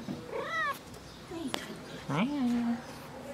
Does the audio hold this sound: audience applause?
no